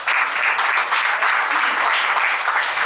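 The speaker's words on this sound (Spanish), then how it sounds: "Aplausos entonces para Brodsky padre" Dense, steady applause from an audience at a book presentation, filling the whole stretch at an even, fairly loud level with no voices over it.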